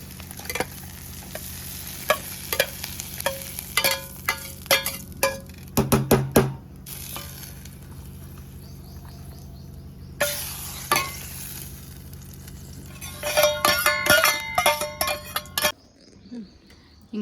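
Tempering sizzles and is stirred for bajji buttermilk curry, with a steady frying hiss and bursts of spoon scraping and clinking against the pan, loud and close, with no one talking.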